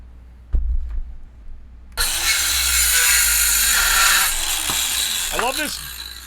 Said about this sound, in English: I love this battery-powered Ryobi chop saw.